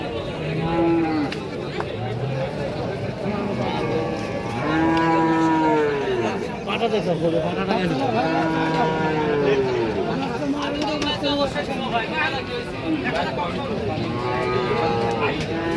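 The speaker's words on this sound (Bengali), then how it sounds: "আজকে অনেক বাচ্চা উঠছে এখানে, ষাঁড় বাচ্চার কালেকশন অনেক।" Bull calves lowing at a busy weekly livestock market, repeated loud drawn-out moos from several animals overlapping close by, over a constant murmur of crowd chatter.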